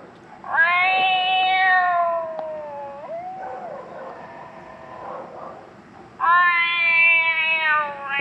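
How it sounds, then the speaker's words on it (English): Barn cat call from a Foxpro Patriot electronic game caller, loud drawn-out meows and yowls in two long bursts separated by a softer wavering wail, played outdoors over a low background rumble. "let's go with a barn cat."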